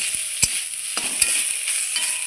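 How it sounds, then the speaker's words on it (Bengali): Banana stem (thor) frying in a pan, a continuous bright sizzle with a few sharp knocks of a spatula stirring against the pan, no voices. "এইভাবে থোর ভেজে নেবেন আপনারাও"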